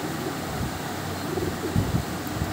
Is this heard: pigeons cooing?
yes